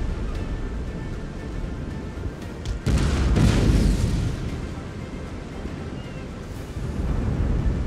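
Cannon fire from warships in an Empire: Total War naval battle against a Spanish galleon: a loud broadside boom bursts out partway through, then a rolling rumble fades beneath steady background battle noise.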